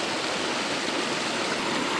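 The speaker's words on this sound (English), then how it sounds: "that's even given me the little waterfall over to the right as well" A small waterfall spills into rock pools at Kiamba, giving a steady, close, broadband rush of flowing water with no pauses and no voices.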